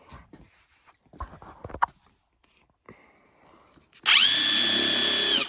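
A RIDGID 18V brushless subcompact impact wrench spins up in speed 2 with a loud, steady high-pitched motor whine that runs to the end, after several seconds of soft handling clatter and quiet.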